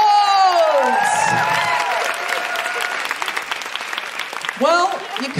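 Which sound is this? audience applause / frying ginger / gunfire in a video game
audience applause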